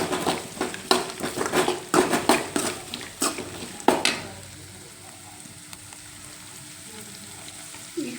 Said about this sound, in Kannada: ಹಾಗೆ ಅದಕ್ಕೆ ಸ್ವಲ್ಪ ಈರುಳ್ಳಿ ಹಾಕಿ ಫ್ರೈ ಮಾಡ್ಕೋಬೇಕು